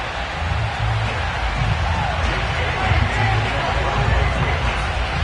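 Stadium crowd in an EA Sports NFL game with a sold-out house: a steady, broad roar of crowd noise throughout, with a commentator talking over it.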